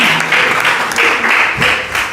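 A crowd at a membership engagement talk breaks into loud, continuous applause, a thick wash of many hands clapping close and full throughout, with no voice over it.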